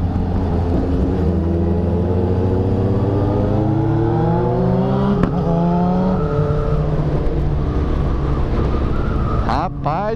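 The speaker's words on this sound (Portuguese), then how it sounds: "A moto do Lucas pipoca demais, cara." A motorcycle engine revs up and down close by, its pitch climbing and falling in repeated sweeps, with a sharp pop midway and another near the end.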